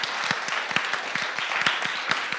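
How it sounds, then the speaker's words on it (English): Audience applause fills a lecture hall at a public talk on journalism at the University of King's College, a steady wash of many hands clapping with sharp individual claps poking through, sustained and fairly close. "give a round of applause to yourself for showing up and listening to this thing"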